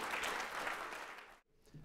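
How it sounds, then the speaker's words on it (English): University audience applauding an author introduced for a talk on neuromarketing research: a brief burst of steady, many-handed clapping that cuts off abruptly, followed by quiet room tone. "let's give a big round of applause to John Kounios"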